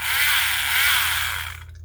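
A Tamiya electric handy drill runs at a steady whine with a single on/off speed, loud and continuous, then cuts out abruptly near the end.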